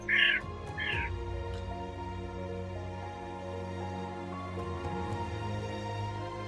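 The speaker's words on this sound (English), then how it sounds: "Oh, it's just some birds." A couple of short bird calls at the start, then a steady low hum with faint scattered chirps in the background.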